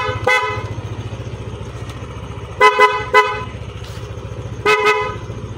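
Loud PIAA dual contact car horn, sounded in short blasts: one early toot, a quick triple burst in the middle and another near the end, over a steady idling engine.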